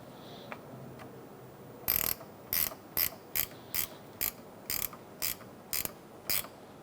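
Ratchet wrench tightening the negative battery terminal nut on a 2002-2006 Toyota Camry: about ten crisp, evenly spaced bursts of clicking, close and loud, over a quiet background.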